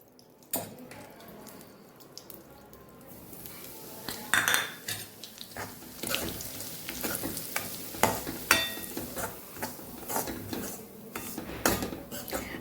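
Semolina roasting in a little ghee for sweet ghughra, stirred continuously with a spoon that scrapes and taps against the pan over a faint, even sizzle. No talking.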